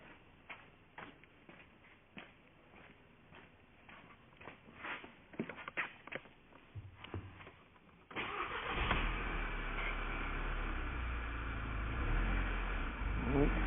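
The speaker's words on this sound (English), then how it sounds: "we'll start the car and see if it's fixed." A Volkswagen GTI engine with a faulty mass airflow sensor cranks and catches, then runs with a loud, steady roar that swells and surges, following a stretch of quieter clicks and shuffling.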